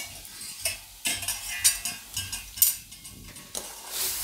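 A spoon stirs wheat flour raab sweetened with jaggery in a pot, giving a run of close, uneven scraping strokes with no speech.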